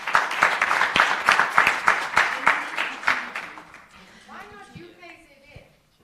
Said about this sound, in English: Please give them a wonderful round of applause.